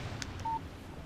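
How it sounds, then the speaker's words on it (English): A short electronic beep sounds alone, a single clear alert tone for an incoming text message on a phone in the Alan Wake video game, with faint background ambience. "Text message from Barry."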